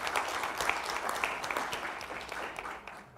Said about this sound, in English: So I think we should give them an applause now.